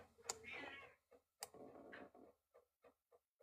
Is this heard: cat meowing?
yes